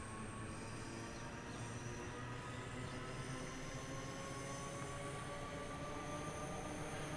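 An electric train in the video game Train Sim World 3 hums and rumbles steadily at low volume as it passes under overhead wire, a continuous drone with a faint rising whine, no voices.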